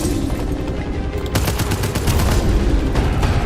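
Grenade blasts in the roguelike shooter Abyssus, heard as a dense rattling barrage of loud explosive cracks and crackling debris, sustained through the clip with no talk.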